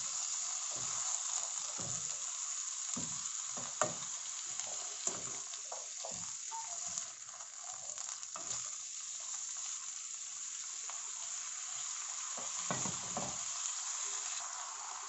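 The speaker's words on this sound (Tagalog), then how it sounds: "Halo-halo lang guys." Pork menudo with potatoes being stirred in a pan, a steady close sizzle of frying with intermittent scraping knocks of the spoon throughout.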